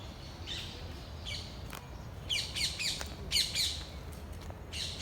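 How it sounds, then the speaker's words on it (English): Parakeets and parrots squawk and chirp in woodland, a series of bright, fairly faint repeated calls over a soft outdoor hiss, with no voices. "You could probably hear them chirping around."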